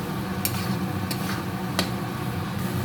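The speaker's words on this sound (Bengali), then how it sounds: "আলুগুলো দিয়ে আর 2 মিনিট একটু কষিয়ে নেব।" Potatoes sauté in hot spiced oil in a pan for a fish and eggplant curry, a steady quiet sizzle broken by a few sharp scrapes of a stirring spoon.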